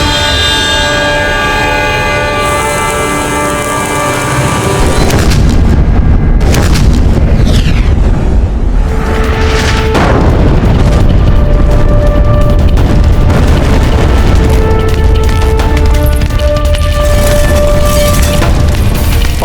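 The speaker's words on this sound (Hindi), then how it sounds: "मुगलों ने पुनः तोप के गोले दागना आरंभ कर दिया है" Mughal cannons fire cannonballs in a historical battle scene, heard as a loud, heavy low rumble and booming that builds after a few seconds. Sustained orchestral music plays over it throughout.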